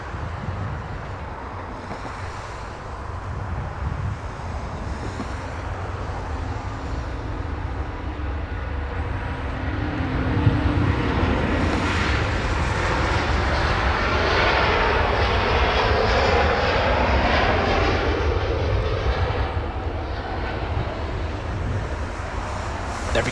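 A Virgin Atlantic airliner departs Los Angeles International Airport, a broad distant jet roar that swells and sweeps across the scene amid wind buffeting the microphone, then slowly fades.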